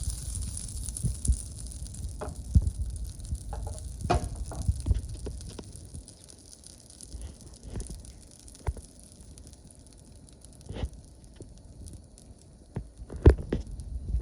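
Butter burning in a very hot pan gives a faint, uneven sizzle with scattered small pops and crackles spread across a quiet background.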